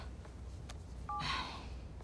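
Short run of phone dialing tones in the video game Marvel's Spider-Man 2, a few brief beeps followed by a brighter tone burst, fairly faint over a low game background hum.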